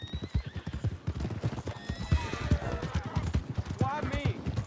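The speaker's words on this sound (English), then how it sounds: "That's my horse!" Galloping horse hooves clip-clop steadily in Red Dead Redemption 2 gameplay, with a horse whinnying loudly toward the end, under shouting voices.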